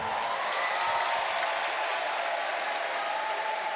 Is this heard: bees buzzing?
no